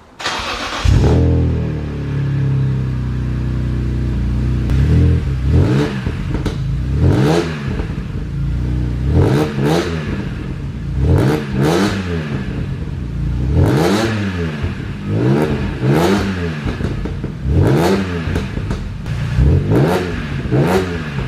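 A BMW E46 M3 with only a rear muffler fitted starts up, then revs repeatedly in sharp throttle blips that rise and fall, loud and close with a steady idle between bursts and no talking.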